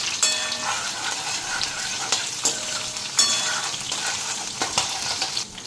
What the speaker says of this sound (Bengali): এখন এটা ভালো করে ফ্রাই করে নিই।